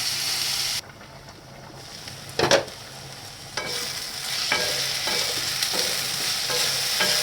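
Bottle gourd peel fries in a pan with turmeric and salt, a steady close sizzle broken by a few louder scrapes and clatters of stirring, with no one speaking.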